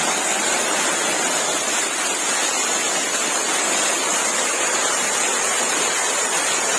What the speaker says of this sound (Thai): รอบนี้เรามาเจอน้ำตก